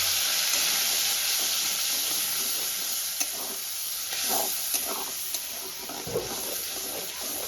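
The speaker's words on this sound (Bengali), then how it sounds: "টমেটোটা খুব ভালো করে কষাতে থাকবো" Ground tomato paste fries in a pan over low to medium flame, giving a steady close sizzle and hiss with occasional soft stirring scrapes.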